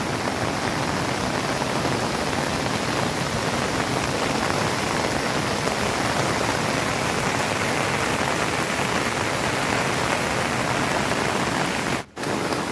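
Heavy downpour in the Gir area during a flood, a dense, steady roar of rain close by that runs unbroken with a brief dropout near the end; no voices.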